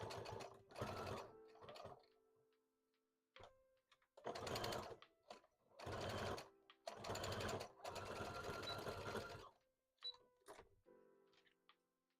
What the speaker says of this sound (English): So I'm just sewing these up.